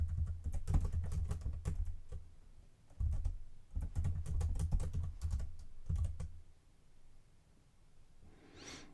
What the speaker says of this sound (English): If I can just type.